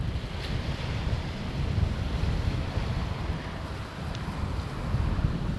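Heavy wind buffets the microphone at a Caribbean seaside port construction site, producing a constant loud rumble and whoosh with a surf-like wash beneath it and no talk.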